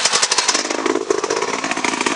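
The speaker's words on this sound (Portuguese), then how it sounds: "A moto está a sair abaixo muita vez." An off-road motorcycle engine runs rough and uneven nearby, its loud, sputtering putter wavering and dipping as though close to stalling.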